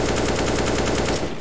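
Rapid automatic gunfire in a shooter video game during recoil practice, a continuous fast burst of evenly spaced shots that cuts off near the end.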